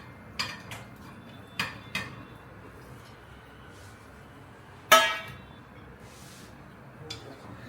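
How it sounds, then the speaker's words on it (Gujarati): Dhokli pieces are dropped into gravy in a cooking pot, giving a few sharp clinks and one louder metallic clatter of utensil against pot, spaced irregularly over a quiet kitchen background. "અને સાથે એમાં ઢોકળી નાખી દેવાની."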